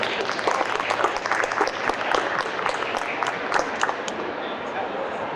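A convention crowd applauds video game voice actors, with thick, continuous clapping throughout and a few sharper claps and faint cheers mixed into the steady roar.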